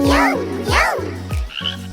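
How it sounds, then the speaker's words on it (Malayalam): A small frog on a log croaks in a children's rhyme: three rising-and-falling, cartoon-like croaks in a steady rhythm, close and clear over a low sustained tone. "ഒരു കുഞ്ഞൻ തവളയിതാ മരത്തടിയിലിരിക്കുന്നു"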